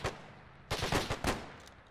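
Several gunshots from a WW2-era Arma 3 battle in Poland, sharp broadband cracks arriving in a short irregular burst after a lone opening shot, fairly close and loud with a trailing echo.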